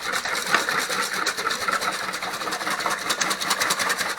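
Whole cream at 35% whipped by hand with a whisk, a fast, continuous, even rhythmic beating against the bowl, close and steady throughout.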